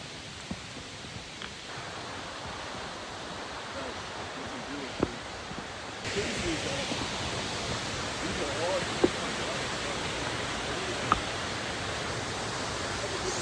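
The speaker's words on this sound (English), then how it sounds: "Sick ass waterfall." Steady broadband roar of a waterfall on the Rickett Glen Falls hiking trail, rushing continuously and growing fuller midway, with a few faint clicks and no talk over it.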